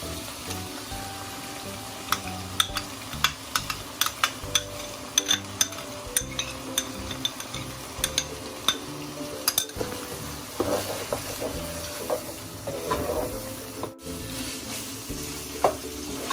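Meat for haleem is stir-fried in oil: a constant sizzle runs under frequent clinks and scrapes of a spoon against the pot, with irregular stirring knocks throughout.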